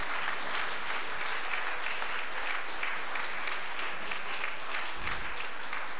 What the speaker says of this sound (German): erstmal Applaus.